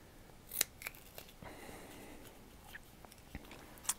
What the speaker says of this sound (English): I'm going to follow that with the scissors all the way around.